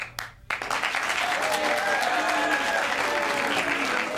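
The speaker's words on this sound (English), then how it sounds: "Your applause, please, for the worst actor." Studio audience applauding on a wrestling talk show during a worst-actor vote, a sustained wash of clapping that swells in after a brief pause and holds steady, with some faint voices mixed in.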